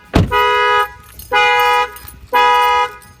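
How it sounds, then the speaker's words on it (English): A Toyota Sienna minivan's car alarm sounds loud and close: a sharp chirp, then three long, even tonal blasts separated by short gaps. "If somebody opens any doors around the van, you get in, the alarm will trigger."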